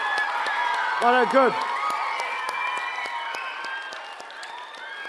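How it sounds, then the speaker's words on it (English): An audience applauds and cheers at the close of a talk on animal diversity; continuous clapping with a brief whoop near the start, a short spoken phrase under it, the applause thinning slightly toward the end. "Give yourself a big round of applause"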